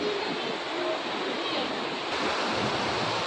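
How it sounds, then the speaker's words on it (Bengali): Hot spring water at Manikaran rushes and flows steadily, a loud broadband roar of moving water with some wind noise on the microphone. "এইদিকে হট স্প্রিং"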